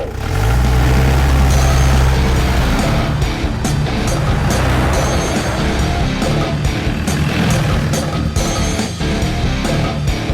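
A car starts up and pulls away, its engine loud and near at first with a low rumble, then giving way to rattling, clattering mechanical and road noise as it drives off.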